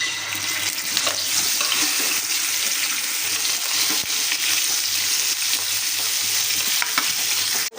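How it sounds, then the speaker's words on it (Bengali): Fish marinated with turmeric, salt and chili fries in a pan, a constant loud hissing sizzle heard up close with faint clinks of stirring, and no talking over it. "ভেজে নিতেছি।"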